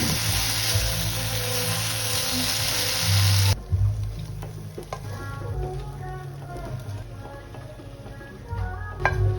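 Chicken pieces drop into a hot pan and fry with a loud, dense sizzle that abruptly drops to a softer crackle and bubbling, close up, with occasional stirring clatter.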